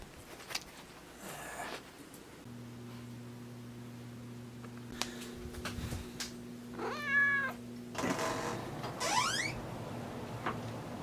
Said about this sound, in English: He's got this black cat